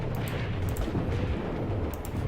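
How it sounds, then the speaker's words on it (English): Dense, rumbling battle noise from a WW2 tactics video game with tanks, with scattered sharp cracks of gunfire and distant booms, continuous and fairly loud throughout. "You can hear that ongoing gunfire."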